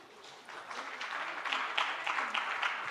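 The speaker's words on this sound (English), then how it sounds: "An applause would be in place." Soft applause from a forum audience at an economic conference plenary session, a diffuse patter of many hands that builds slightly and stays fairly distant.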